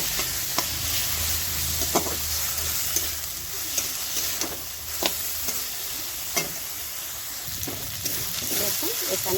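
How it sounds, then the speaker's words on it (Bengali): Garlic, ginger and onion paste with spices frying in a pan, a steady low sizzle broken by regular sharp scrapes of a spoon stirring against the pan, close and moderately loud. "এবার সব কটা মশলা একসাথে আরেকটু আমি ভেজে নেব।"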